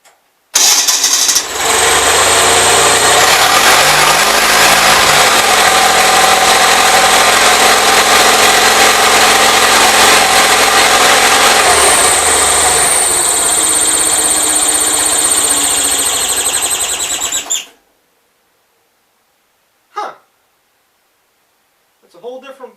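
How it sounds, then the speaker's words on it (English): A rebuilt 450 engine runs loudly and steadily close by, a harsh continuous roar with a faint lingering off-note, then cuts out abruptly, leaving near silence broken by a couple of short knocks. "The motor still has that sound a little bit."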